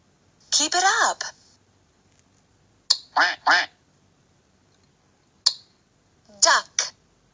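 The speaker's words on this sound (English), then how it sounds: "Duck." A duck quacks in short, nasal bursts: a double quack, then a pair, then another pair after a pause, each set up close and clear, with soft clicks between them.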